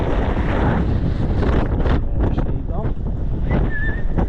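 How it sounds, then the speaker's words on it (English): Wind buffets a microphone outdoors, a loud continuous low rumble and roar filling the clip, with a voice partly heard beneath the gusts. "I'm hoping the wind's not too bad."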